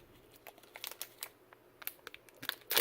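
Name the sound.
crinkling anti-static bag being opened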